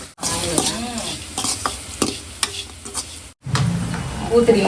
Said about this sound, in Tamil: எண்ணெய் ஊற்றினேன் கடுகு போட்டேன் பச்சை மிளகா இஞ்சி கடலைப்பருப்பு எல்லாம்